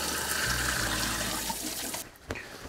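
A tap runs steadily with water splashing over hands being washed at a kitchen sink, close and continuous, before the flow cuts off and a few small knocks follow.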